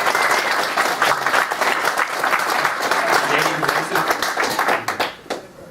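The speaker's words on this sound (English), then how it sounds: "I'd like a big round of applause for Ian" A room of people gives Ian a big round of applause, dense steady clapping that stays loud before thinning out and fading near the end.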